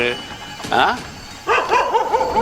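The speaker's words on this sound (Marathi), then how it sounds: "कुत्री का भुकाय लागली ती" Dogs bark and yip in short bursts close by, with a quick run of barks near the end, over a faint background hum.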